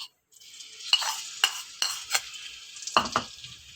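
Ground garlic sizzles in hot ghee while a utensil scrapes and clinks against the pan several times, stirring up close.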